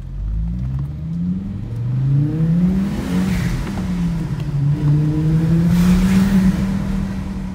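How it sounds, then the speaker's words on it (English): Audi five-cylinder car engine accelerating hard with a rising, warbling exhaust note, loud and close, climbing steadily in pitch through two long pulls with no talking. "You have video of your car accelerating or doing this?"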